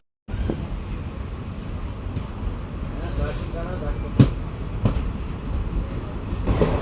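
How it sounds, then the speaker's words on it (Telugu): Unreserved passenger train 57302 from Medak to Kachiguda rumbles steadily along the rails as it passes under a highway bridge, with a couple of sharp wheel clacks and faint voices in the carriage. "ఇప్పుడు మన ట్రైన్ హైవే బ్రిడ్జి క్రింద నుండి వెళుతోంది"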